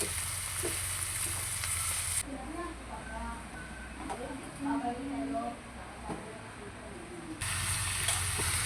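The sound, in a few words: mixing sautéed cabbage with seasoning in a pan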